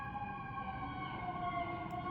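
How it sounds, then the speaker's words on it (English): Fire truck siren wailing outside, a steady sustained tone with harmonic layers, moderately distant and continuous without pauses, no talk over it. "I hear the fire trucks coming"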